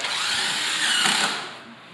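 A power drill drives 1 5/8 inch Rock-On screws through Durock cement board laid over a wood subfloor, giving a continuous near whirring grind for about a second and a half that eases off at the end.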